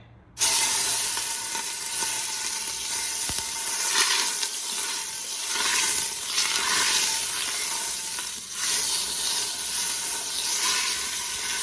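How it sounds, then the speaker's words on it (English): Meat sears in a hot pan with a loud, steady sizzle that holds for about eleven seconds, rising and falling slightly in intensity, with no talking over it. "Take our meat and we're just gonna sear it on all sides."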